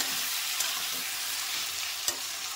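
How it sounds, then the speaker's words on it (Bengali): Washed potatoes still carrying a little water fry in fish oil left in the pan, making a bright, constant sizzle up close, with one sharp crackle near the end and no talking. "আলুগুলোকেও আমি যে তেলটা বেরিয়েছে ওই তেলেতেই ভেজে নেব।"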